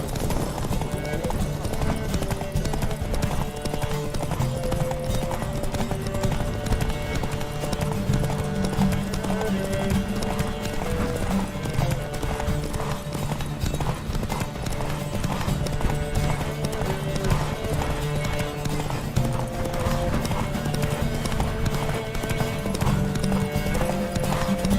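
Horses gallop in The Witcher 3 during a race, a dense continuous drumming of hooves with occasional whinnies, layered over game music and effects, with a voice calling out.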